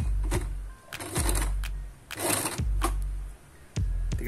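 A sewing machine stitches a replacement seat belt for a Perodua Axia in short bursts of rapid mechanical whirring, stopping and starting several times close by.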